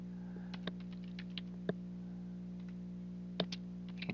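Scattered keystrokes on a computer keyboard as a Linux network command is typed, a handful of soft clicks spread out irregularly over a steady low hum, with no talking.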